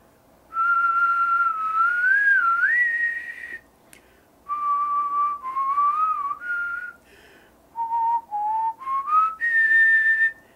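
Clear, sustained whistling demonstrating the air pattern used for playing the horn, with several long gliding phrases broken by short pauses, close and loud with no talk.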